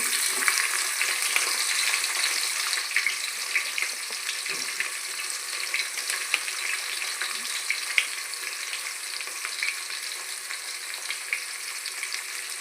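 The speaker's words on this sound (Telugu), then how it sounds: "బ్రౌన్ కలర్ వచ్చేంత వరకు వేయించుకోవాలండి" Onions sizzle and fry steadily in a pan for chicken pulao, a dense continuous crackling hiss with faint scraping stirs, fairly loud throughout.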